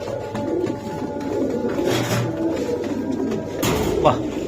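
Pakistani teddy pigeons coo steadily and softly at close range, with low murmuring voices and other background noise running underneath throughout.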